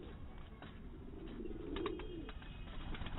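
Several breeder pigeons in a loft give low, rolling coos, one swelling louder midway, over a constant dull background hum.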